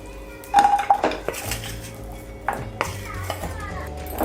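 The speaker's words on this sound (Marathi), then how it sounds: "डिंक आहे ना तो आपल्याला तांब्याने ना असा फोडून घ्यायचा आहे" A metal tumbler knocking and clanking against fried edible gum (dink) in a pan, a series of loud close metallic bangs and scrapes in uneven bursts, with quieter pauses between.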